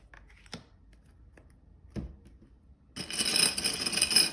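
Tarot cards are shuffled by hand, starting with a few sparse taps and riffles and then breaking into a dense, close rustling flutter of cards.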